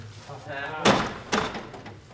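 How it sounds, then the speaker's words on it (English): A cartoon castle door slams shut with a sharp, heavy thud, followed by a second echoing bang a moment later, over faint background music. "With the door slamming shut behind them"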